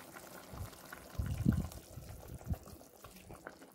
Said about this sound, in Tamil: மிக்சி ஜாரை 1 டம்ளர் தண்ணி ஊற்றி இப்போ கழுவி இதில் ஊற்றிடுவோம்